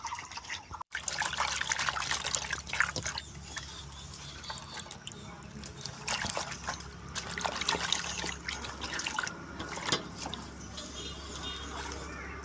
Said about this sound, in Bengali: আমি কাঁচা জল দিয়ে দিয়ে নেব পরিষ্কার করে দিয়ে নেব